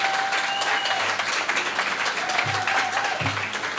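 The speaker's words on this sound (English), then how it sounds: "can we have a very vibrant round of applause for our living human treasures" An audience at a book launch for living human treasures claps vigorously and continuously, a dense crowd applause with faint voices beneath and a low tonal hum.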